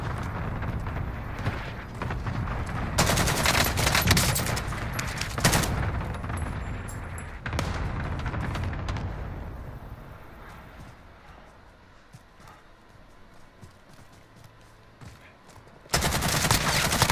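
Heavy automatic gunfire in the Call of Duty Warzone shooter, with an AK47 featured: dense, loud bursts of rapid shots roll on for several seconds, ease into a quieter spell, then break out again at close range.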